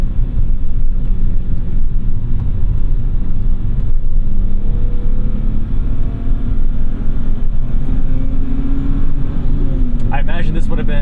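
A 1991 BMW M5 E34 engine runs smoothly while driving, a loud continuous low drone with road rumble, under a voice talking throughout.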